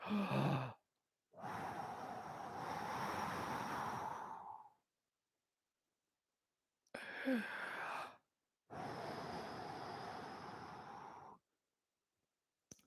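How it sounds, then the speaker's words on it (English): Three long, exaggerated breaths, each a broad airy rush several seconds long, separated by short silences; close and loud with no talking. "I'm going to make a really exaggerated breathing noise."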